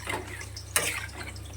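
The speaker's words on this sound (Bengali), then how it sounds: "জল দিয়ে দেবো, তারা মাংসটা ছাড়বে।" Water pouring steadily into a pot of cooking chicken, a continuous close splashing rush with one sharper splash midway.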